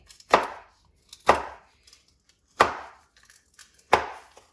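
Knife chopping vegetables into large pieces on a cutting board, four sharp separate chops spaced about a second apart, close and clear with near silence between them.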